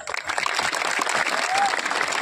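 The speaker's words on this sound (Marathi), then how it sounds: "या लोकांसाठी टाळ्या वाजवा" Audience at an outdoor speech in Vadgaon breaking into steady, dense applause, many hands clapping together at close range.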